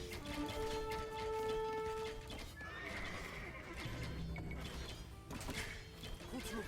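A horse whinnies loudly amid clattering hooves and mechanical game noise in Age of Empires 2 Definitive Edition, with a busy, clashing background.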